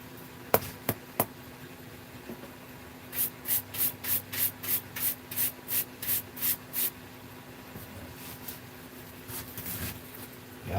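Rhythmic scratchy rubbing strokes, about a dozen in quick succession, sanding a pen turning on a lathe, after a few sharp taps; close and fairly quiet.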